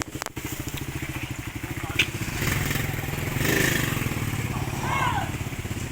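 A motorcycle engine runs close by with a rapid, steady putter at idle, rising slightly in intensity partway through, while people talk over it.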